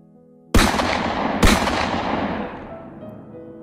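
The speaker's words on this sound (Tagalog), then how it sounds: "Pumain lang ang dalawang magkasunod na putok ng baril." Two consecutive gunshots as a sound effect in a Tagalog story, two sharp, loud bangs about a second apart, each trailing into a long fading echo.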